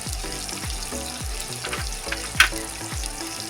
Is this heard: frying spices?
yes